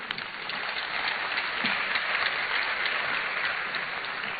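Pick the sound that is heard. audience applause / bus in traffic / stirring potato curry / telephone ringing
audience applause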